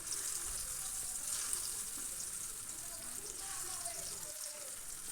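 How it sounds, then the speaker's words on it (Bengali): Pieces of paneer fry in hot oil in a wok, giving a soft, steady sizzling hiss that stays faint and continuous throughout. "কড়াইতে তেল গরম করে নিয়েছি এবার পনিরগুলো দিয়ে দিচ্ছি এক এক করে"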